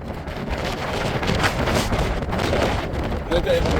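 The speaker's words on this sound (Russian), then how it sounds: "Чтобы вы понимали, какой тут ветер." Strong wind buffets the microphone outdoors in Switzerland, a loud continuous roar with gusty surges throughout and no clear speech.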